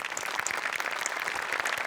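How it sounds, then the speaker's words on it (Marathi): Applause from a comedy show audience, dense fast clapping from many hands, steady and lively for the whole moment. "सो एकदा सेटिंगवाल्यांसाठी सुद्धा जोरदार टाळ्या."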